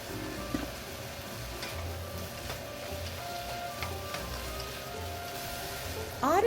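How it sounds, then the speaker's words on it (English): Ground chicken, sliced garlic and okra stir-frying in sesame oil give a soft, steady sizzle with light ticking from stirring, then a brief louder clatter of utensil against pan at the very end. "Stir fry lightly and add okra."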